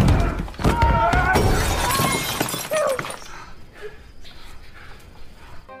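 Glass shatters loudly in the series Outer Range, a burst of crashing, tinkling fragments mixed with voices and thuds, then quieter scattered debris and background noise.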